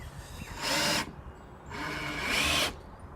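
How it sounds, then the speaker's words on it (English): A power drill driving screws into wood while building a blue barrel water tower, two separate whirring bursts of about half a second each, close and loud, with quieter handling noise between them. "I am driving these screws in about 1/4 of an inch"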